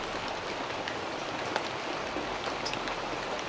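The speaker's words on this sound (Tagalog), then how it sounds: "Malakas ng ulan." Heavy rain pouring down, with a dense, continuous hiss of drops striking surfaces and scattered sharper splats throughout.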